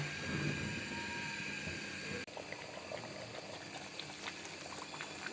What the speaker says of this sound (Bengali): মিডিয়াম টু লোতে চুলার হিট রেখে আস্তে আস্তে শুধু নেড়ে নেড়ে এটা ভুনা করে নেব